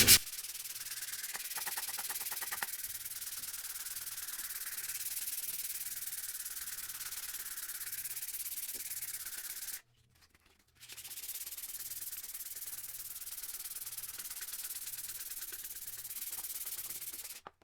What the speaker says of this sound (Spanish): Ahora se lo voy a quitar con la lija.